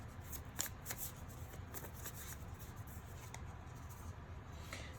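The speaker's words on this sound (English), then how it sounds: "Let's get one more card here for group 3." Soft rustle and light snaps of tarot cards being handled and drawn from a deck, a few quick flicks early then quiet shuffling, close and faint.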